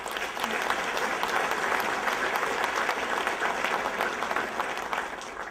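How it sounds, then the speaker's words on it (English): An audience gives sustained applause for a panel at a breakfast event, a dense, even clatter of many hands lasting about five seconds before tapering off slightly. "If we could please have a round of applause for our panel."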